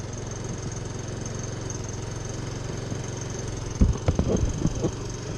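A small engine idles low and steady after a big bore kit install, with the idle set slightly low and running rich, a near continuous hum that turns into a few louder uneven pops and surges toward the end.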